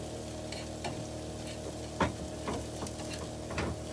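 A crispy taco frying in a pan outdoors near the water, with a steady close sizzle and scattered pops and clicks throughout.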